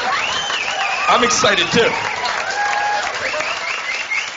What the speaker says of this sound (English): gentlemen in the back clapping